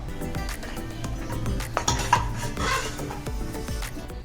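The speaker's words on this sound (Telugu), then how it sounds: "అందులో రెండు స్పూన్లు నెయ్యి లేదా ఆయిల్ అయినా వేసుకోవచ్చు కొన్ని జీడిపప్పు వేసి దోరగా వేయించి పక్కన పెట్టుకుందాం" Cashews frying in ghee in a pressure cooker pot, with repeated metallic scrapes and clinks of a spoon stirring against the pot over a faint sizzle.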